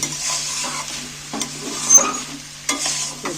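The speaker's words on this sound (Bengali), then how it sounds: "দেখো ভালো করে নাড়াচাড়া করে মিক্স করে নিচ্ছি" A spoon stirs dry spiced potato filling for singara in a frying pan, scraping and tapping against the metal in irregular strokes over a soft background sizzle, close and alone.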